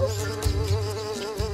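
A fly buzzes steadily in a game cutscene, a close, continuous droning whine that wavers slightly in pitch, with faint soft thumps underneath.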